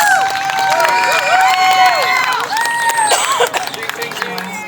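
Wedding guests cheer a toast together, a loud, close jumble of raised voices and whoops that rises and falls for several seconds before trailing off.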